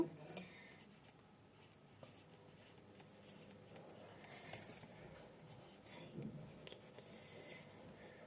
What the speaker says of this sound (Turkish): Hemen yazalım hatta.